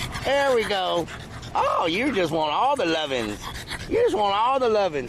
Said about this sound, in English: That was the dog breathing.